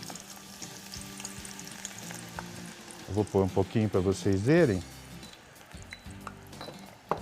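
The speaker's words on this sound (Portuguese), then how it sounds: "É imersão de óleo mesmo. É uma fritura." Chopped onion deep-frying fully immersed in hot oil, a steady close sizzle that flares into bubbling bursts midway while someone talks over it.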